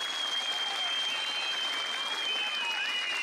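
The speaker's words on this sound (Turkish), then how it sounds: "sevgili efsane başkanımıza çok kuvvetli bir alkış rica ediyorum." Strong, steady applause from a large audience at an evening public gathering honoring a town mayor, dense clapping that fills the space continuously with no pauses, with a high whistle-like tone running through it.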